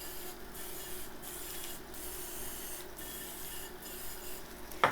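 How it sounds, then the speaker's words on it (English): Short hissing bursts of cooking spray are sprayed into a muffin tin one after another at a steady rhythm, fairly quiet and close, ending with a sharp metallic clink. "I'm just going to spray them with cooking spray."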